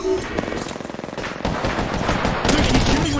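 Rapid automatic gunfire from Apex Legends crackles in dense, continuous bursts, loud and close, with the firing growing heavier toward the end and no clear talk over it.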